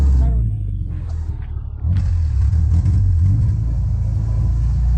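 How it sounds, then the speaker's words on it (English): A Subaru car's exhaust runs with the muffler disconnected, a steady deep low rumble that swells into a louder, fuller drone partway through, close by, with some voices around it. "Let's hear that exhaust."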